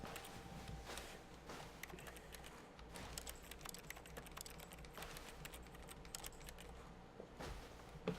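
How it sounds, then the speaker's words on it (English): Rapid, uneven keyboard tapping clicks away continuously at close range, soft and quiet, with no voices. "I'm making keyboard tapping sounds."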